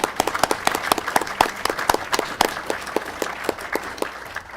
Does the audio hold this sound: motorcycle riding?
no